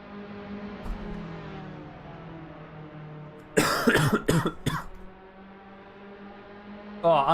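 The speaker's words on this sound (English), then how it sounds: "I'm trying to make sure my coughing isn't heard." A person coughs in a quick cluster of several harsh bursts midway through, then once more near the end, close to the microphone over a steady hum from a racing game's engine sound.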